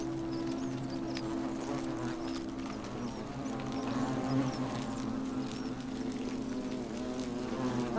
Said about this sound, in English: Oh yeah, there's a whole bunch of flies.